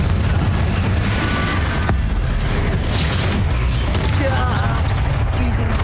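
A Confringo fire spell blasts in Hogwarts Legacy on PC, a loud, continuous rumbling explosion with dense booming crackle that fills the whole stretch, with no pause or talk over it.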